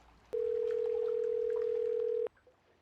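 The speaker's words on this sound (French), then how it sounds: "elle compose un numéro sur son téléphone portable" A single steady dial tone from a mobile phone sounds for about two seconds with an abrupt start and stop, clear and loud above a quiet background.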